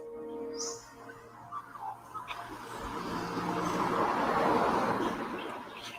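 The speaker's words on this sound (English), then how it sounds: "But you know what hearing this car's made me think?" A car drives up along a quiet rural road, its broad tyre and engine noise swelling steadily from faint to fairly loud over several seconds, with a few soft bird chirps early on.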